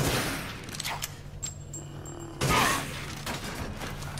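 A sniper rifle fired in Resident Evil Village: a single sharp crack in the middle, with sparse scattered thuds and quiet game ambience around it, no speech.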